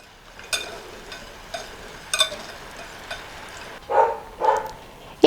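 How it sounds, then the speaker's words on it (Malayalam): Powdered sugar is mixed into yogurt for an eggless semolina cake, with a spoon clinking and scraping against the bowl in irregular taps and a few louder rough bursts near the end. It is close and clear, with no talking. "അതും ഇതേപോലെ ഈ തൈരിൽ നന്നായിട്ട് യോജിപ്പിച്ചെടുക്കുക"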